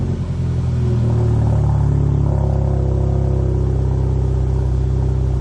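VW MK6 GTI engine with a new aftermarket exhaust giving a loud, deep, steady droning rumble close by, the tone rising slightly midway as it revs.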